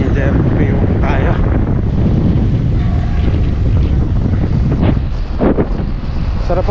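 Strong wind buffeting the microphone on a bike ride near Bañadero, a loud continuous low rumbling roar with gusty surges throughout, nearly drowning out everything else.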